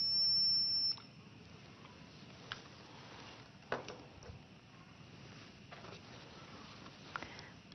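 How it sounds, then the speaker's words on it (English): A circuit tester touched to a piece of group 1 alkali metal gives one steady, high electronic beep lasting about a second, followed by faint handling taps and near-silence. "We can use a circuit tester to show that it conducts electricity."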